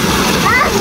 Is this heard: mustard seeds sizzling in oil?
no